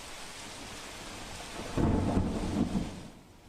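Steady heavy rain hisses throughout during flooding in Vadodara, then a deep rumble of thunder rolls in midway and slowly fades.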